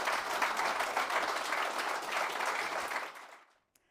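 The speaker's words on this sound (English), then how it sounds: "Just a round of applause for the two gentlemen." Audience applause for two gentlemen at an exclusive Kohler event at Carrington, a dense steady wash of many clapping hands that holds strongly for about three seconds, then thins and fades into near silence.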